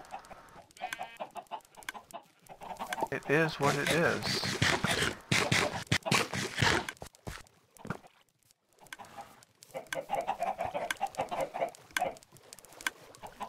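Chickens clucking in the Minecraft video game, a series of short game-sound clucks coming in bursts, mixed with someone talking over the gameplay.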